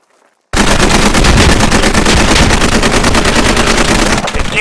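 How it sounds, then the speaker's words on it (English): Sustained automatic gunfire from a live fire enemy exercise in the video game Squad, bursting in loudly after a moment of near silence and hammering on in rapid continuous rounds before cutting off abruptly near the end. "this is a live fire Enemy exercise"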